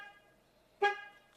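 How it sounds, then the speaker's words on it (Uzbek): A Chevrolet Onix or Tracker alarm gives a single short, bright chirp as it arms while the windows close, preceded by a quiet fading tone in an otherwise calm setting. "Tit qilib signal chaldi."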